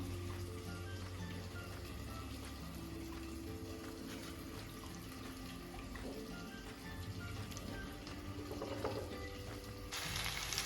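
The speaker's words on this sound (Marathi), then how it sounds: "आपण त्याच्यात 2 ते 3 वाटी पाणी टाकायचं आहे।" Water poured from a bowl into a pot of cooked dal for sambar, a soft, continuous liquid splashing and trickling that runs steadily throughout at low volume.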